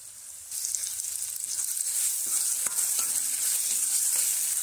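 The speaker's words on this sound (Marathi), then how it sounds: "आता बारीक चिरलेला टोमॅटो घालून घेऊ।" Finely chopped tomato added to a pan of sautéed garlic and green chilli paste, with a bright, steady hiss of frying that starts suddenly and holds close and even, a few light knocks, no speech.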